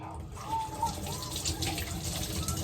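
Tap water runs steadily into a sink while dishes are washed up in a home kitchen, a continuous close splashing flow that stays even for the whole stretch.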